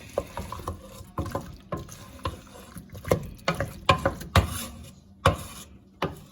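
Spoon stirring salt into a pot of leek and potato soup, a series of close, irregular scraping and sloshing strokes with faint background hiss.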